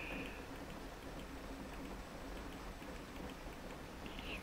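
Rain falls steadily in a survival video game, a soft continuous hiss of drops on surfaces, faint and even throughout with no talking over it.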